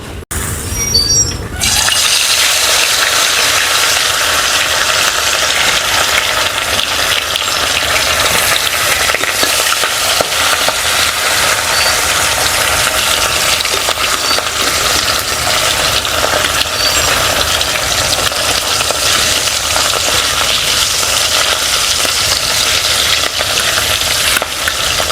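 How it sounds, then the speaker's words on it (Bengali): Pieces of katla fish fry in hot oil in a kadai, a loud, dense, unbroken sizzle close by after a brief quieter start. "এইবারে মাছগুলো খুব ভালো করে ভেজে নেব।"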